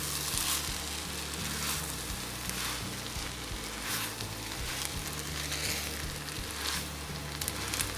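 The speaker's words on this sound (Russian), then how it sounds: "И обжариваю на средней мощности 3 минуты." Bulgur with vegetables frying in a pan over medium heat, a steady close sizzle that runs throughout with occasional louder crackles and stirring noises, no talking.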